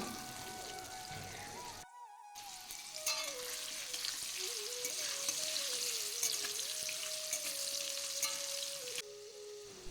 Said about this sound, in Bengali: এখানে আমি আলুগুলোকে দিয়ে আলুটাকে আগে ভেজে নেব